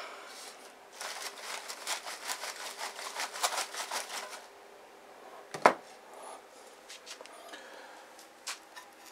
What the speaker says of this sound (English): I notched along this top edge with my handsaw.